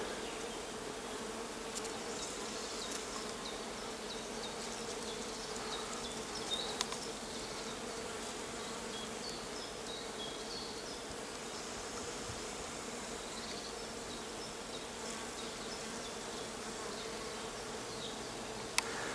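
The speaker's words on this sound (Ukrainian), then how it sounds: "Дерево, дерево гудить. Ось куди літає бджола." A dense, steady hum of many bees buzzing together around a flowering tree, continuous and moderately faint, with occasional individual insects passing closer.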